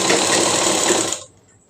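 A sewing machine runs steadily while stitching a blouse armhole, a loud continuous whirring hum that stops abruptly after about a second, leaving near silence.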